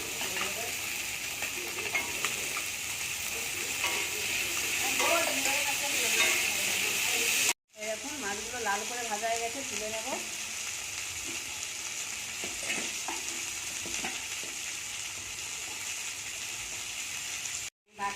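Potato and eggplant chunks fry in mustard oil in a kadai wok, with a constant close sizzle and hiss, scraping stirs throughout, and a voice talking faintly for a few seconds partway through.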